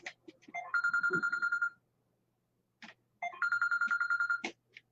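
A mobile phone ringtone rings in a quiet room: two bursts of a bright, repeating electronic melody separated by a brief pause, loud and close with no talking over it.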